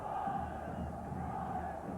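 Big crowd at a 1996 rugby league match between Paris St Germain and Leeds in a stadium, a steady distant roar of massed voices filling the stands, continuous and even throughout.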